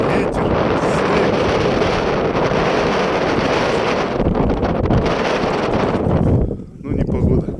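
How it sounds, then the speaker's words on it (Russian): Strong wind roars steadily across a foggy, snowy frozen lake during winter ice fishing in a frosty blizzard, a loud continuous buffeting that dips briefly near the end. "Непогода, туман, ветер, снег."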